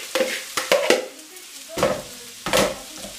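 Bacon lardons tipped back into a pan of frying onions, with several sharp scrapes and stirs over a light, intermittent sizzle, close by.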